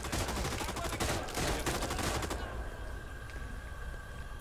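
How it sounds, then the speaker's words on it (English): An anti-aircraft gun blasting in the video game Raid: World War II, a dense roaring barrage of rapid shots for about two seconds, then a fading rumble of battle noise. "Use an AA gun and shoot it."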